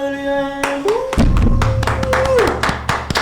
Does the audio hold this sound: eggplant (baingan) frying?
no